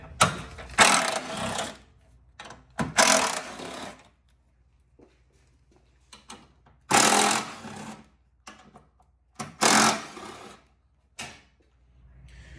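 Socket wrench loosening 13mm bolts on a Fiat 500 Abarth during a front mount intercooler install, heard as several loud bursts of rapid ratcheting clicks separated by pauses, close up with no talking.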